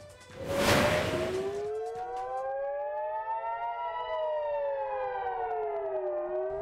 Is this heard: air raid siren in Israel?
yes